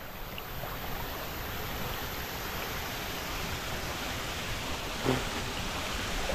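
A river flows near waterfalls in Portland, Jamaica, a steady broadband rushing wash of water close by, constant in level with one brief bump, and no talking.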